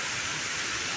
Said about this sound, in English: Just a shot of the waterfalls this morning.